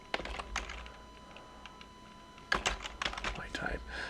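Scattered keystrokes on a computer keyboard, with short sparse bursts in the first half and a denser run of clicks after a pause, fairly close.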